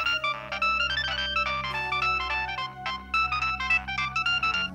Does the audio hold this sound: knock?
no